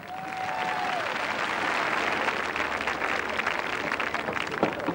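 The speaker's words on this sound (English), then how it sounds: "Alid Jones, round of applause." An audience at a 1987 televised royal knockout tournament applauds in a dense, steady wash of clapping that holds at an even loudness from start to finish, with no voices over it.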